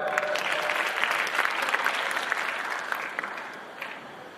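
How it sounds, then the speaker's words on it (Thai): An audience at a Thai folk song contest breaks into close, steady applause that gradually fades away. "ขอเสียงปรบมือด้วยครับ"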